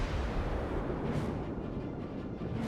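Heavy ship artillery in the naval battle game World of Warships sounds as a dense, continuous low rumble of distant gunfire that stays steady throughout.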